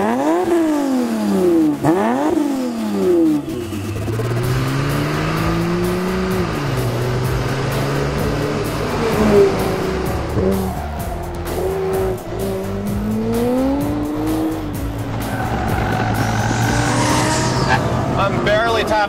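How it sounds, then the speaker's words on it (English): A 1,400-horsepower AMS Performance Alpha 12 Nissan GT-R accelerates and drifts on a race track, its engine revving up and down loudly close by while the tires squeal and someone talks over it. "Into the throttle, I'm getting drifts."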